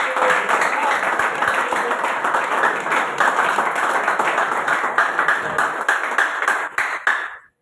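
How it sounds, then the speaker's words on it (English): Dense, steady applause from an audience at a coaching course fills the room for several seconds, then thins out and stops abruptly. "if you want to clap, please clap very well for me."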